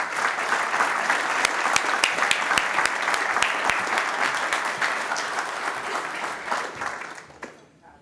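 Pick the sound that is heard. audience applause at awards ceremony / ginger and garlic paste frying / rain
audience applause at awards ceremony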